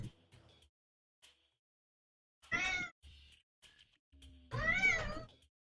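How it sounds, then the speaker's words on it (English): A cat meows for attention in two clear calls, a short one and then a longer drawn-out one, separated by quiet stretches with faint low background noise. "and a cat that wants attention"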